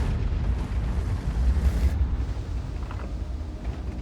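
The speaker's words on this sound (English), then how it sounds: "Puts a blind shot in." A tank in a tank battle video game fires a blind shot. A deep, muffled boom rolls out and rumbles on for a few seconds over low background noise.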